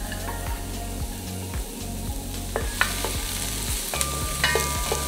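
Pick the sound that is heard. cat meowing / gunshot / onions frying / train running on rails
onions frying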